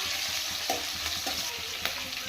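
Onions sizzle steadily in hot oil with chicken livers and gizzards in a pan, a loud continuous frying hiss broken by a few soft stirring scrapes.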